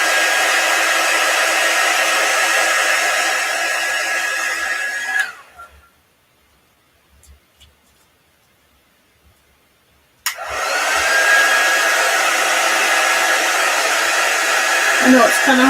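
A hair dryer blows steadily and loudly on crafted flowers and leaves, with a high whine, cutting out for about five seconds of near silence before roaring back on for the rest of the time.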